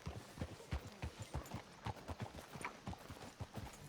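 Horse hooves clip-clop steadily in Red Dead Redemption 2, a close, rhythmic walking gait of evenly spaced hoof strikes repeating throughout, with no talk over them.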